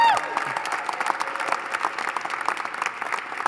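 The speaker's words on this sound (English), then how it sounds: "Give him a round of applause." Guests at a formal national dinner break into a dense, sustained round of applause that fills the hall evenly, with a faint voice at the very start.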